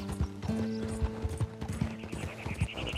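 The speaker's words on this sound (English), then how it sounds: "She's fast horse. Look at that. Full pelt." A white Arabian horse gallops at full speed in Red Dead Redemption 2, its rapid, rhythmic hoofbeats pounding close and clear along with a rattle of tack.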